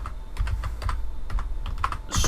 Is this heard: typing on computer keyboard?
yes